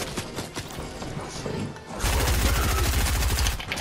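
Rapid assault rifle bursts in a shooter video game, sharp repeated shots that turn into a loud, dense volley of automatic fire midway through, close and continuous.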